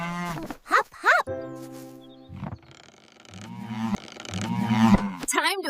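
A cartoon cow on a farm gives several drawn-out, voiced moo-like calls with sliding pitch, separated by short pauses and mixed with a few brief cartoon voice sounds.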